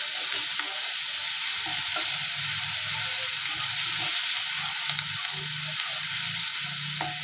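Spinach, a mix of green gram leaves and fenugreek leaves, frying and being stirred in a pan, giving a steady close sizzle with soft scraping strokes throughout, no voices.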